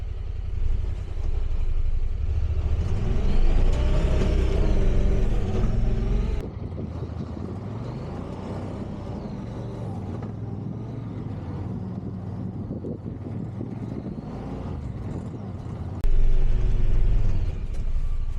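A Honda Pioneer side-by-side on Camso tracks ploughs through deep snow, its engine a steady, loud low rumble heard from inside the heated cab, with a shift in tone partway through before the revs rise again.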